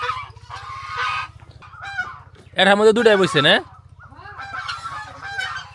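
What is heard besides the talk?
ducks and chickens being fed rice and bran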